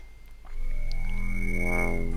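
A steady electronic hum from a maglev train in OpenTTD swells in after a brief pause, its tones sliding and converging as it hovers past, loud and continuous.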